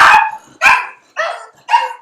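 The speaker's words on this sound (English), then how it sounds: "Excuse my dog." A household dog barks four times in a steady rhythm, each bark loud and near, with short silences in between and no talking.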